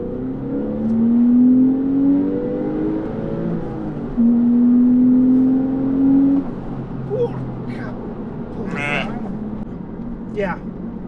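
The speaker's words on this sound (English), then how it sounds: "Second gear, I want to test a bit the car and see the acceleration" A Porsche 996 Carrera pulls hard in second gear, its engine note rising steadily in two long sweeping surges before easing off, with occasional speech-like sounds toward the end.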